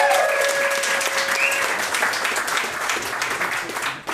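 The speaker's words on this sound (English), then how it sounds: "Guys, make some noise for Sab Powers" An audience at a stand-up comedy show applauds loudly and steadily, a dense wash of clapping with a few cheers that starts at once and fades slightly near the end.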